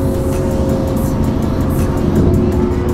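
A tuned car idling or revving at a car meet, producing a loud, steady engine drone close by that holds for the full few seconds, with no clear talk over it.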